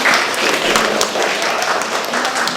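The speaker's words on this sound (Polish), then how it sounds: "Wielkie brawa dla niej." An audience at an outdoor culture and nature event applauds Iwona Ziółkowska with close, lively clapping that comes in bright individual claps and stays strong throughout.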